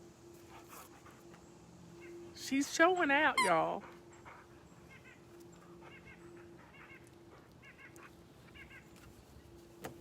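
A dog whimpers and whines in a brief rising burst of high, wavering cries, eager for a toy to be thrown, close by over quiet talk.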